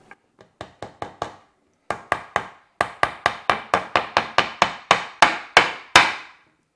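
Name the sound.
hammer striking a rugged smartphone's metal back plate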